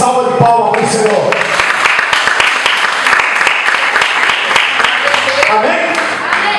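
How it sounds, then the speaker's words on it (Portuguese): A church congregation breaks into loud, sustained applause, dense overlapping claps filling the room without pause, with voices mixed in beneath the clapping. "dê uma grande salva de palmas para o Senhor"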